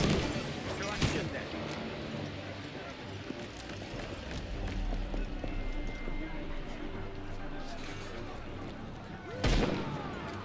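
Gunfire from the Assassin's Creed Black Flag video game rings out in scattered shots over busy combat noise, with a louder burst near the start and another near the end, under ongoing talk.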